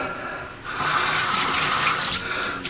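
A bathroom tap is turned on and runs into the sink for shaving water, starting after a short quiet moment and then pouring as a loud, steady, close rush with no talking.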